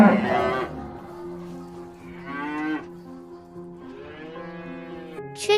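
A cow moos three times in long, drawn-out calls, fairly close and clear, with short gaps between each low bellow.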